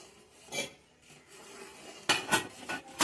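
A metal spoon scraping and clinking against a pan while melting ghee in a Konkan home kitchen, with a few soft scrapes early and a cluster of sharper, louder metallic strokes near the end.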